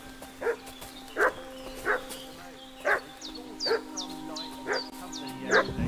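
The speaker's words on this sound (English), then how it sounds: "What's that dog making such a fuss about?" A dog barks repeatedly in the video game Kingdom Come Deliverance 2, regular moderately distant barks about once a second over a steady low hum, with faint whistling chirps in the background.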